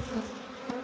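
Honeybees drone in a steady, low buzz close by during a hive rescue, a short burst with no voices.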